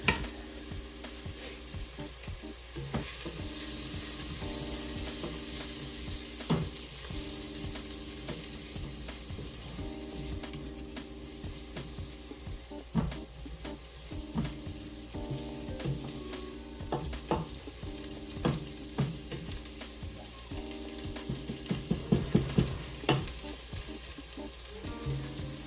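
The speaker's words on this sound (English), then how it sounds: "Probably stir those onions." Onions sizzle and fry steadily in a pan, with intermittent scraping and clinking as they are stirred; the sizzle swells louder partway through and stays continuous, with no talking.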